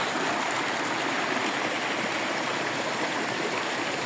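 Steady rushing of stream water, close and loud, a continuous broadband flow with no voices.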